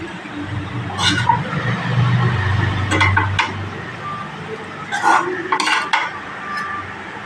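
Chappathi noodles garnished with coriander leaves are shifted from a pan onto a plate, with metal utensils clinking and scraping in scattered bursts over a low, steady kitchen hum.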